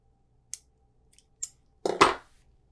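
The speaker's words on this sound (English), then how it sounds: "And you can cut off the ends so that they don't peek out." Scissors snip off the loose ends of tape on a squirrel treat box: a few faint, brief clicks, then a louder crisp double snip near the end, heard alone in a quiet room.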